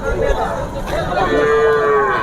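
Native and Jersey cows moo repeatedly in long, drawn-out calls at a weekly livestock market in Mudkhed, India, over a busy outdoor background murmur, fairly loud and close.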